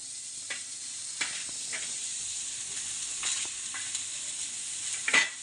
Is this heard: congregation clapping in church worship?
no